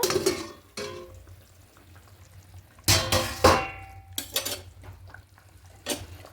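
A lid comes off a pot of boiling thin fish curry cooked with potato and tomato, giving sharp metallic clangs and clatters in a few separate bursts, close and fairly loud against quiet bubbling.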